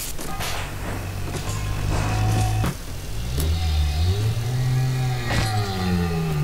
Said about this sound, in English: Does not sound happy, that Big Daddy.